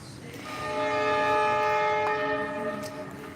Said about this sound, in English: There's a train in the background.